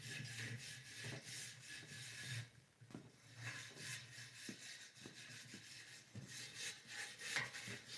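Steady scraping and rubbing while the rim of a 1998 Kawasaki KX250 motorcycle is cleaned, a quiet rasping rhythm with occasional small knocks, close and faint.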